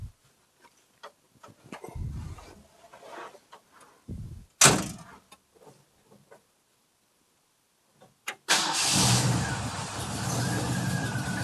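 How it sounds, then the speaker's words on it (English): A 1932 Ford pickup truck engine cranks and catches near the end, bursting into a loud, rough running rumble after several seconds of scattered clicks, knocks and quiet handling noises. "So everything's all tight and ready to go, ready to fire up."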